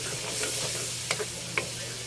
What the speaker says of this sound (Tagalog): Saka natin lagay ang gulay.